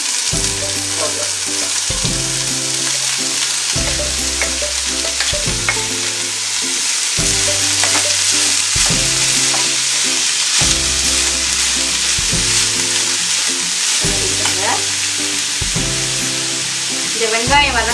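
Small and large onions sauté with salt in hot oil for egg gravy, a loud, steady sizzle with stirring scrapes, backed by looping background music.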